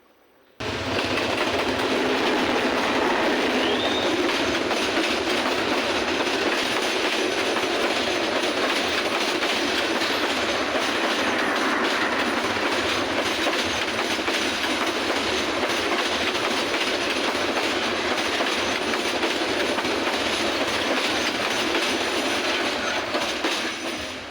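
A train passes close by on a railway line near a tea estate in Sreemangal, a loud, continuous rumble with rhythmic clickety-clack of wheels over the rails lasting the whole stretch, with no talk.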